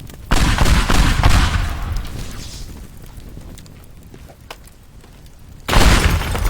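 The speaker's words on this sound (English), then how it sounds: "Exploding banana." Explosion of an exploding banana in the voxel destruction game Teardown, a loud burst at the start with rumbling debris fading over several seconds, then a second loud blast near the end.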